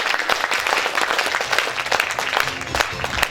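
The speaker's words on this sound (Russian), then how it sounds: "громкие аплодисменты." Enthusiastic applause from a concert audience at a jubilee show of a Chuvash folk ensemble, dense steady clapping filling the hall for the whole stretch without any voices on top.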